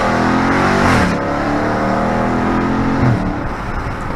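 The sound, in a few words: Dodge Charger Daytona 392 engine revving loudly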